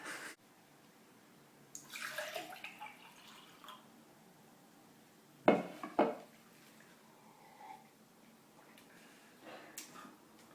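A spoon stirs a drink with cinnamon in a cup, a few soft clinks and liquid swirls close by in a quiet room, with light handling sounds around them.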